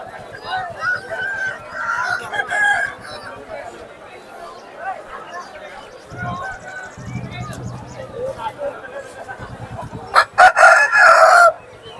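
Chickens and roosters at a crowded poultry market, with repeated loud crowing and clucking rising over a steady murmur of people talking, the strongest crows near the end.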